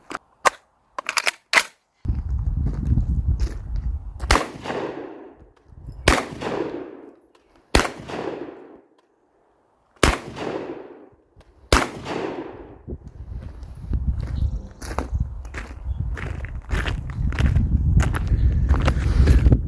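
A Panzer Arms BP12 semi-automatic, magazine-fed 12 gauge bullpup shotgun fires Winchester shells outdoors: about eight sharp, loud booms spaced a second or more apart, each trailing into a short echoing decay, with rustling in between.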